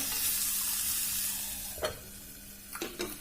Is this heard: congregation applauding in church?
no